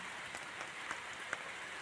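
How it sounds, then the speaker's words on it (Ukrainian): Rain falls as a steady, soft hiss with a few faint drops ticking on a surface, heard alone without voices. "Давно не бачили дощу"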